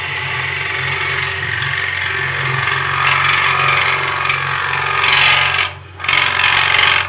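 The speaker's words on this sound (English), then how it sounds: "I got a little bit of chatter because I'm pushing the tool a little bit." A woodturning tool chatters against spinning wood on a lathe as it is pushed into the cut, a continuous harsh rasping buzz with a steady low hum underneath, briefly dropping out near the end before resuming.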